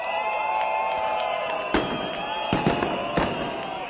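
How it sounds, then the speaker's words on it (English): Fireworks set off by protesters at a street demonstration in Tbilisi, Georgia: several sharp bangs and crackling bursts go off over a steady crowd roar, with distant shouting throughout. "protesters retaliated with fireworks"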